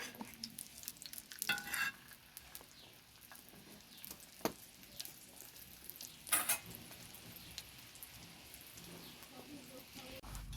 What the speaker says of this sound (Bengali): এইভাবে ডিমটাকে উল্টিয়ে আরও এক পিঠ ভেজে নেব।